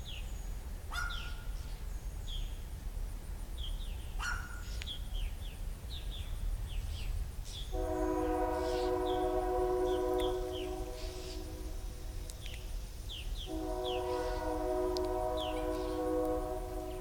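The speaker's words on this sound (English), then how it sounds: "7:32 is bringing the train back" Winchester & Western locomotive 732 passing at a distance with a low rumble, sounding two long multi-tone horn blasts, with birds chirping repeatedly over the engine noise.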